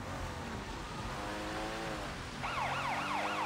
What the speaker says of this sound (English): I don't really like the sirens